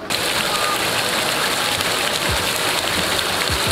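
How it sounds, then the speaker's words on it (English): A small waterfall at an old-time theme park in Branson, Missouri gives off a steady, loud rushing splash of falling water that fills the whole moment without pause. "Look at that cool little waterfall."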